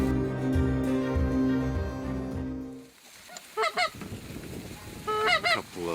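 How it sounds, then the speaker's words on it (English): Canada geese honking in the open outdoors, a few clipped, distant calls in short bursts that follow a droning engine hum which drops away partway through. "A couple of Canadian honkers out in front of us."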